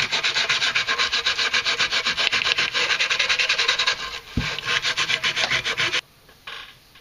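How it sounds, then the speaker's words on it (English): Rapid back-and-forth sanding on a model shuttle tank, a dense rasping scrape in steady strokes that pauses briefly near the end before a few softer passes. "while we're sanding away on this tank"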